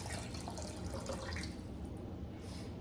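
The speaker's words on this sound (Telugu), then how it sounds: "యాడ్ 1/2 కప్ ఆఫ్ వాటర్ అనమాట." Half a cup of water pours into dal for mutton dhalcha, a soft steady splashing trickle that tapers off near the end.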